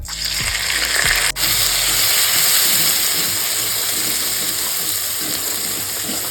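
Ginger, garlic and green chilli paste fries in hot oil with a loud, steady sizzle throughout, a brief clatter near the start.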